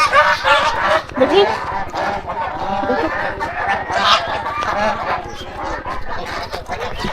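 Geese calling in a village setting, honking and clucking calls overlapping steadily throughout, with someone speaking over the flock.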